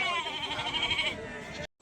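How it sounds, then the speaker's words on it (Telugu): Sheep and goats bleat at a livestock market, steady overlapping calls close by that fill the scene, then cut off abruptly near the end. "ఈ గొర్రెలు చూడడానికి పెద్దగా మంచిగా ఉన్నాయి"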